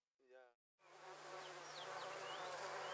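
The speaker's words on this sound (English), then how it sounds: "According to Pitt, the honey of these wild black bees is not harvested" Wild black bees buzz in the Namibian bush, a dense, steady close drone that keeps on after a brief, separate tonal sound at the start.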